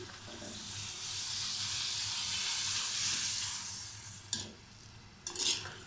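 Gol gappay puris for pani puri frying in hot oil in a home Punjabi kitchen, a steady soft sizzling hiss with a couple of sharp stirring clinks near the end.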